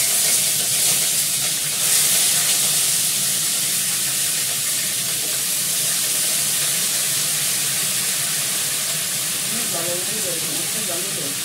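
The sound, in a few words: cauliflower added to hot oil with cumin, sizzling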